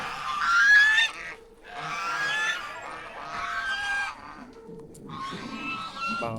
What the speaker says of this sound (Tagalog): Ganda dito, farm na farm yung vibes, May mga gansa